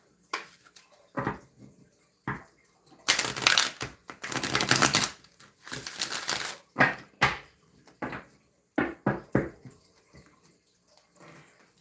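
Deck of cards being shuffled close by, with scattered sharp riffles and taps and a couple of longer riffling bursts near the middle, fairly loud against a quiet room.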